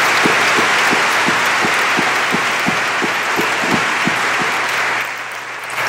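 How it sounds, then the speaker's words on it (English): At a school convocation, a large audience gives a round of applause for the superintendent. Dense clapping carries on steadily for about five seconds, with regular rhythmic beats running beneath it, then drops away abruptly. "I would like for you to all give Dr. Stevens one more round of applause for being our superintendent."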